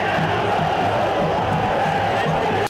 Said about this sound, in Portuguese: Festa para a torcida paraense.